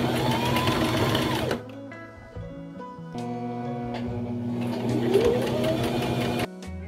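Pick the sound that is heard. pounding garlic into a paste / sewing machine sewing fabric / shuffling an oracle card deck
sewing machine sewing fabric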